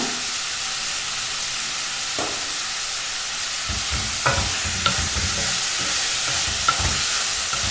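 Tomatoes sautéing with salt in a pan for Kumbakonam kadappa, a constant sizzle with repeated spoon scrapes and stirring knocks growing busier in the second half, close and moderately loud.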